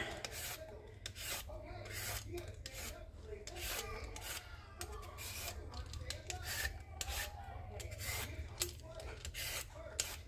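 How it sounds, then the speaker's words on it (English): A peeler scrapes down a carrot in quick, repeated rasping strokes, close and fairly quiet, in a home kitchen. "I guess since I'm peeling, I'll peel my carrot."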